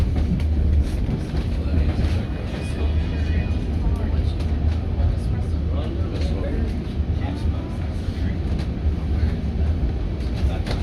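Steady low rumble of a narrow gauge train on the White Pass and Yukon Route leaving Skagway, Alaska, with rattling and clatter throughout; a voice may be faintly present beneath the noise.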